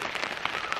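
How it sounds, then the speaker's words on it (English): Rain falls steadily on a lakeside campsite, a close, dense patter of scattered drops hitting surfaces in a brief, even burst with no talking. "Rain's starting to come down a little harder."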